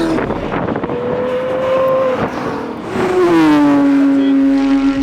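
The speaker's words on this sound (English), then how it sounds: "You would have heard that crazy GT3 Cup car going around" A GT3 Cup race car on a track drives past with a loud, sustained engine drone whose pitch climbs and falls as it revs, holding steady and strong near the end, with no talking.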